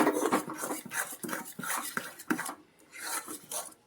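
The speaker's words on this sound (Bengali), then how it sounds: "ছাঁচি দিয়ে চারিদিক থেকে ঠিক টেনে নিয়ে নিই" A spatula scraping mango sandesh mixture around the sides of a pan, a series of close, uneven rasping strokes and light metal clinks, fairly soft, with a brief pause near the end.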